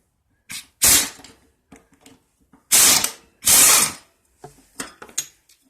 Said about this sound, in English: 5/8 socket will take this blade off